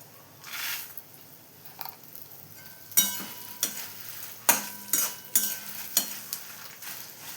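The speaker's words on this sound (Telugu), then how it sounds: "వీటన్నిటిని దోరగా వేయించుకోవాలి" Fenugreek seeds and spices roast in a pan for ginger pickle, with sharp spoon clinks and scrapes against the metal coming in irregular bursts over a faint background hiss.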